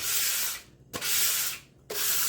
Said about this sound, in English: I'm using some 220 grit sandpaper and just going along just to take it down here.